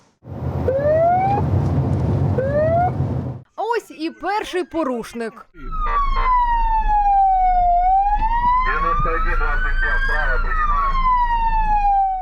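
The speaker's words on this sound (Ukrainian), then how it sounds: "Все аби перевірити, чи поступаються водії кареті із сиреною." An ambulance siren wails and sweeps loudly on a city road during a police checkpoint raid testing whether drivers yield, with traffic rumble underneath and someone speaking briefly between siren passages.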